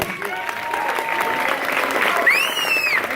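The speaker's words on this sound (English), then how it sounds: "Everybody give Irv a round of applause." An audience claps steadily throughout, with a whistle rising above the applause near the end.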